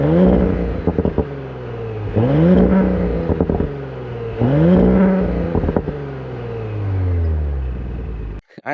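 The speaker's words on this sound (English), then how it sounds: "I'm gonna have you guys listen to this exhaust." A 2018 Audi S5 Sportback on its stock exhaust is revved three or four times from idle, each rev rising and falling in pitch, followed by a longer deep rumble up close.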